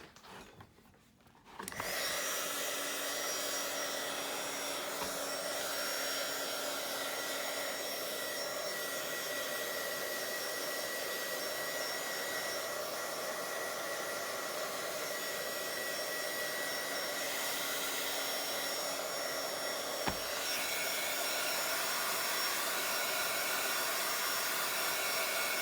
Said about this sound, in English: so I'm gonna dry that now real quick.